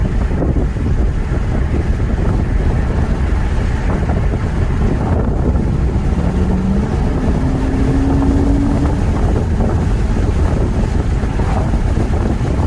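An Infiniti M45 with a VK45DE V8, treated with Seafoam, is driven along the road, its engine and road rumble loud and continuous under heavy wind buffeting, with no one talking.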